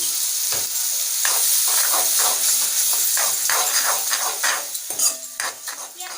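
Spice paste of ground cumin, chili and turmeric mixed with water sizzles steadily in hot oil while a spoon scrapes and clinks against the pan in repeated stirring strokes, close and loud, with no talking.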